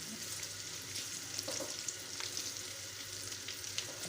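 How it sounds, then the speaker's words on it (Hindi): Spices sizzle in hot oil in a pan with cumin, curry leaves, garlic and ginger, a steady soft frying hiss with occasional crackles and light stirring, no talk. "इसको हम 2-3 मिनट फ्राई करेंगे। लहसुन अदरक की बहुत प्यारी सी खुशबू आ रही है।"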